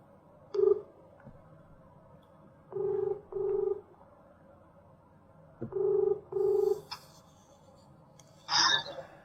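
A telephone dials a number back after a missed call: short paired electronic keypad tones beep in separate bursts, close and clear, with a brief higher chirp near the end over a quiet background.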